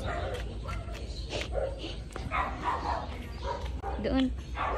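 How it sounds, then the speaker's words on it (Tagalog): A crowd of dogs barks and yips in overlapping, busy bursts near a dorm area, moderately loud and continuous, with people speaking over the noise. "Dami ng aso."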